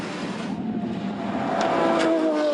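A Pagani Zonda R race car accelerates hard on a track, its engine note climbing steadily in pitch as it pulls away, loud and continuous.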